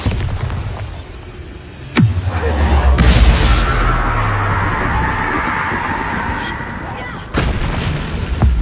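Blasting spell explosions in the video game Hogwarts Legacy: a sharp boom near two seconds rolls into a sustained rumbling roar, then a second heavy blast hits near the end over continuous game ambience.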